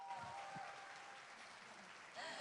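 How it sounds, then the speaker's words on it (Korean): Conference audience claps after a band's performance, a brief, faint and distant patter of applause with a voice briefly heard. "다시 한번 큰 박수 부탁드릴게요"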